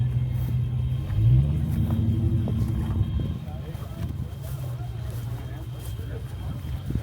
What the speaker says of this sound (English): Check out that international truck.